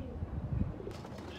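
Domestic pigeons cooing softly in a loft where a few birds have been let out, low rolling coos close by, followed by a faint rustle toward the end.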